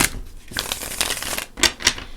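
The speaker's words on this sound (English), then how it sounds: "I'll just shuffle a couple of times" Rapid riffling and flapping of a deck of tarot cards being shuffled, close by and continuous, with a few sharper snaps near the end.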